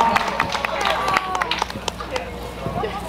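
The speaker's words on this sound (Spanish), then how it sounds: "Fuerte los aplausos para la quinceañera y sus padrinos" A party audience claps steadily for a quinceañera and her godparents, a busy spatter of hand claps and crowd murmur running throughout under a master of ceremonies' voice.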